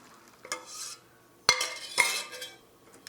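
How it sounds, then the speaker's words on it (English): Vanilla pastry cream mixture whisked in a bowl: a few separate bursts of quick wire-whisk scraping and clinking against the side, close and moderately loud, with quiet pauses between. "Whisk this all up until it's all combined."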